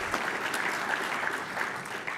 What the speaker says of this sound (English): I want to have a round of applause for all of our great faculty members here